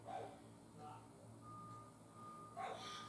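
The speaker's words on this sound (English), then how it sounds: "Oh, we have a tow truck coming next door to, I guess somebody's got some car issues." A tow truck reversing next door sounds a backup alarm, faint distant beeps at the start, near one second and at the end, with a steady tone in between, under quiet room sound.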